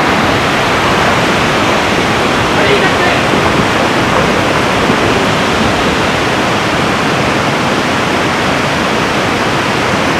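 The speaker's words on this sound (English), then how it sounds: "This is the waterfall and we need to cross it." Dense, loud, unbroken roar of a mountain waterfall crossing the road on the route to Spiti Valley, close and steady throughout with no breaks.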